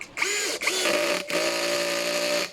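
A power driver whirs steadily in near-continuous bursts while bolts are tightened on a polyurethane executive office chair during assembly, the tonal motor whine broken by two brief pauses, close and alone.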